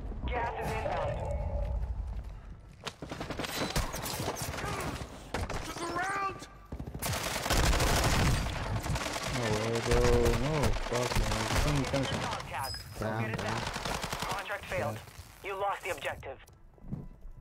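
Video game gunfire in a shooter match, with bursts and volleys crackling throughout alongside other game effects, while players talk over the action.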